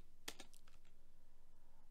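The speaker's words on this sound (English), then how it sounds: "Sorry for the typing." A short burst of a few quick keyboard key clicks, close and crisp, then quiet with a faint steady hum.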